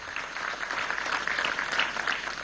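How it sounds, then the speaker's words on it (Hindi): Sustained audience applause welcoming guests at a Himalayan film festival, steady and dense clapping from a large crowd throughout, moderately loud with no voices over it. "जोरदार तालियों के साथ, करताल ध्वनि के साथ इनका स्वागत"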